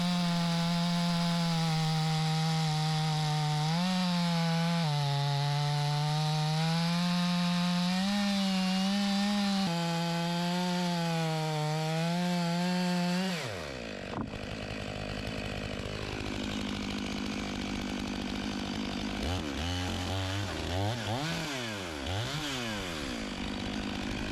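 A Stihl MS500i chainsaw runs at a steady high whine while milling a honey locust log into slabs, then drops in pitch and bogs as the cut changes, with fluctuating revs toward the end.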